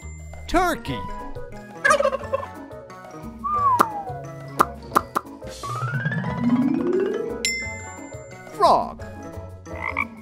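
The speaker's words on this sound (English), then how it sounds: "Turkey." A turkey gobbles in a quick rattling burst among cartoonish musical plinks and slides, with a croaking call near the end.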